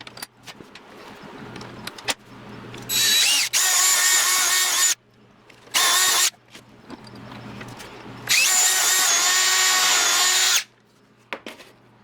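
A power tool whines at high pitch in three loud bursts, trimming the ends of a pen blank down to the brass tube, with handling clatter and quiet gaps between runs.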